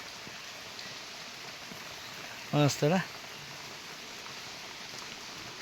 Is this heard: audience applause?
no